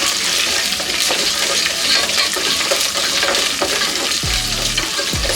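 Chana dal and urad dal frying in a pan of hot oil for a ridge gourd stir fry, a steady dense sizzle with occasional stirring scrapes and a couple of low knocks near the end, no voices.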